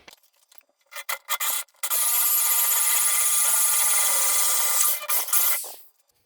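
A few short grinding bursts, then a sustained harsh rasping whine of a drill-driven 3.5-inch hole saw biting through a 2x board, steady for several seconds before stopping.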